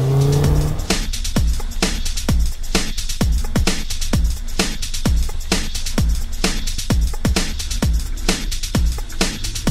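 A Beneteau Flyer 6.6 Sundeck motorboat runs at full throttle with a loud, continuous engine roar, broken by rapid, repeated slaps and thuds as the hull pounds across the water.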